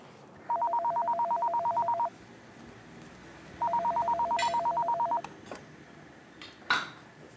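A telephone rings in two electronic bursts, each about one and a half seconds of rapid warbling trill, separated by a pause, with faint kitchen clatter of dishes afterward.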